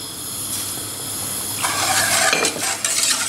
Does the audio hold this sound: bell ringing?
no